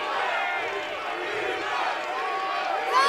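Stadium crowd at the LA Coliseum in a football video game, a dense, steady roar of massed voices rising slightly toward the end.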